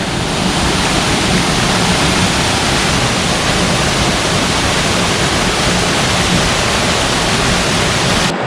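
Semuncar waterfall on the slope of Mount Merbabu roars as a loud, continuous, dense rush of falling water, unbroken throughout and cutting off abruptly at the end.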